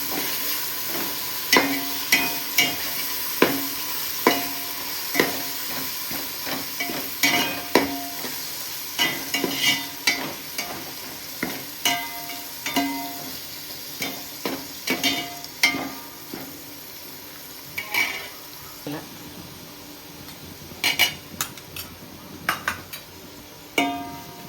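Ginger paste and chopped tomatoes stirred in a sizzling pan, with a spoon scraping and clinking against the metal in repeated, irregular strokes over a steady frying hiss, no voices.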